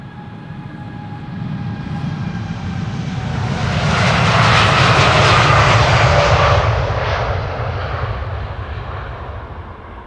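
A TUI Boeing 787 Dreamliner departs Amsterdam Schiphol Airport, its engines roaring as a steady broadband rumble that swells to a peak mid-clip and eases off as the jet passes by.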